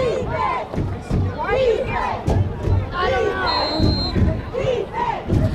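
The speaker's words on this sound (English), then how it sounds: "The crowd chanting for some defense" A football stadium crowd chants for the Red Devils defense: loud, rhythmic group shouts that rise and fall in steady beats, dense and close across the stands.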